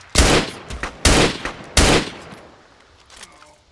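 Three loud, close gunshots in the military shooter game Arma 3, spaced about a second apart, each a sharp crack with a short decaying echo, followed by quieter distant rumble.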